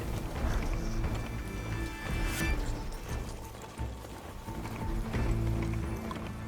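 A horse-like mount trots in Horizon Forbidden West, its steady clip-clop hoofbeats running close and loud over a dense game soundtrack, with a brief crash partway through.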